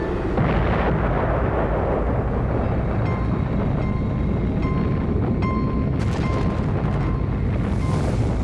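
An atomic weapon test explosion in the Nevada desert: a loud, continuous, deep rumbling roar that stays dense and heavy, with some crackling near the end.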